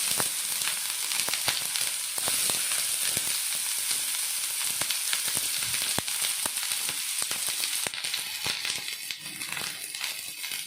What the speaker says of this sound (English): And now is the time we add chopped onions.